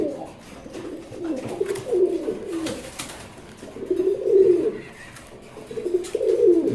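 Hyderabad blue pigeons coo close by in low, rolling phrases, about four bouts repeating one after another with short pauses between.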